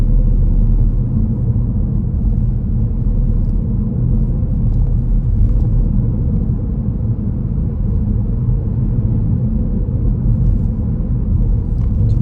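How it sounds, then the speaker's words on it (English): A car engine rolls downhill in fourth gear at 50 on a Raheny driving test route, a steady, close, low rumble that holds even and unbroken from start to finish. "I'm gonna slip it into fourth and just roll down the hill at 50"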